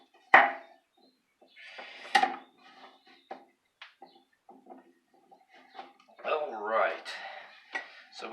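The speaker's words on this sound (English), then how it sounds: "Chop up your potatoes there." A knife chops potatoes on a cutting board in a home kitchen: a few sharp, close knocks spaced out, mixed with scraping and clatter, while someone talks in between.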